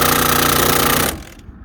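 Impact wrench gun hammering off a shock absorber bolt on a GMT800 truck, a loud, steady, rapid rattling burst for about a second that cuts off abruptly into quiet.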